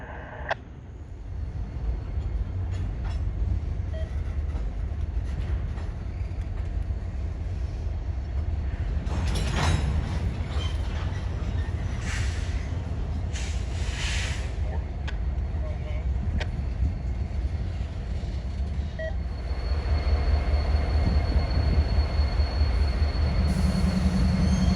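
A BNSF/UP freight train pulls back slowly in the Arkansas Delta, rail cars rumbling steadily with intermittent high wheel squeals and clanks, nearby and continuous for the whole stretch.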